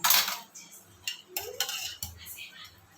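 A pan set onto a kitchen stove, a close metallic clatter and scrape followed by a few lighter clinks and knocks of cookware.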